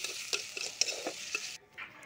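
Chillies, onion and garlic stirred and fried in a pan: a soft sizzle broken by a series of scraping spatula strokes and light clinks, then a brief pause and a faint further stir.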